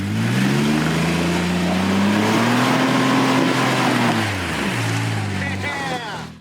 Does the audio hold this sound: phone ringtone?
no